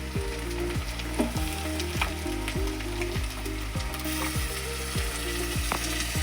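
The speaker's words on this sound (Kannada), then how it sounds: "ಇದು ಎಣ್ಣೆ ಒಳಗೆ ಫ್ರೈ ರೀ ಇದು ಟೊಮೆಟೊ" Chopped tomatoes fry in oil with garlic and chili paste, a steady sizzle sitting under a loud repeating mechanical whir that rises and falls in regular cycles.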